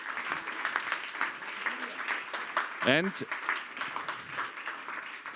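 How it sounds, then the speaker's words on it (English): A conference audience applauds at the end of a talk, a dense patter of clapping heard at moderate distance, mixed with a speaker's voice talking over it. "please, a special applause again"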